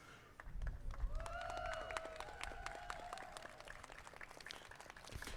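Scattered audience clapping at a Salvation Army donut eating championship aboard the USS Midway, sparse distinct claps over a murmuring crowd with a tonal sound drifting through, moderately distant and fairly quiet.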